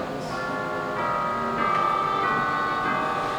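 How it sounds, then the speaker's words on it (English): Church-style wedding bells ring out in a sustained, resonant peal, loud and continuous within a stage musical performance, blended with orchestral accompaniment. "back from the dead he came, to the sound of wedding bells."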